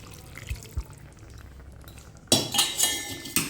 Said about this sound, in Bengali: আর একটু জল মনে হচ্ছে আমার লাগবে তো চলো আর একটু জল দিয়ে দিই